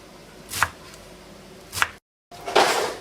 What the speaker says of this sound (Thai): หั่นค่ะ หั่นให้ละเอียดหน่อยนึงนะ